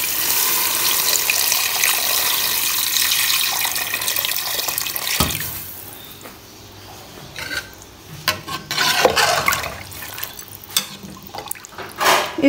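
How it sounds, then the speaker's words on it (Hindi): Water pours steadily into a pot of fried chicken being cooked for haleem, a bright rushing hiss that stops midway, followed by scattered stirring scrapes and clinks. "अब हम इसमें पानी ऐड करेंगे कि अच्छे से हमारा जो चिकन है गल जाए।"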